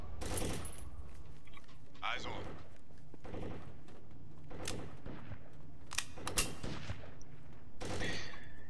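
Repeated gunfire in the tactical shooter Takedown: Red Sabre, loud sharp shots in short bursts and single cracks spread across the stretch, with someone talking over the fighting.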